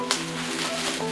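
Plastic wrap peeled off a Samsung Galaxy Unpacked August 2020 kit for the Note 20, a steady close crackling hiss with a sharp crinkle near the start, over a faint low hum.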